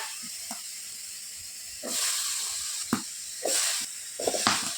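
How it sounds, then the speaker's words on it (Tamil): Drumsticks, brinjal and potato dropped into hot masala in a pan give bursts of loud hissing sizzle, rising in several waves over a steady background fry. "முருங்கைக்காய், கத்திரிக்காய், உருளைக்கிழங்கு இப்போ சேர்த்து கொடுத்துக்கோங்க."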